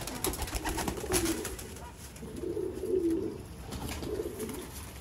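Young Pakistani pigeons held for sale coo in low, soft, rolling phrases that repeat every second or so over steady background hiss, with no talking.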